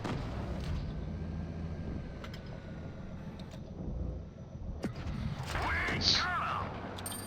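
Tank cannon shots in WOT Blitz firing off shells, a few sharp booms spread across a steady engine and battle rumble, ending in a louder ringing blast with a bright tonal whine.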